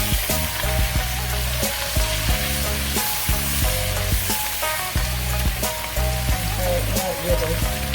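Spinach thrown into a hot pan with pasta and chuck roast fixings, a loud dense steady sizzle running throughout with faint clinks and stirring, close and continuous, no voices.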